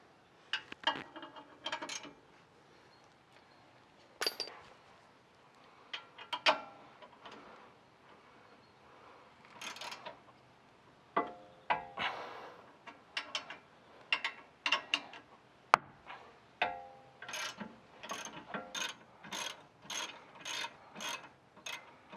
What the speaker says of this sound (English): I'm going to loosen the lower shock mount bolt, and then we can drop that down, and then we can loosen the top shock mount bolt.